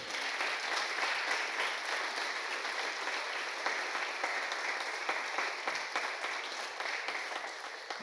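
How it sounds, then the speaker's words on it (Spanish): A large church congregation applauds steadily for the full stretch during an evening service, a dense wash of clapping with no pauses, fairly loud and even. "¿Alguien puede aplaudir al Señor esta noche?"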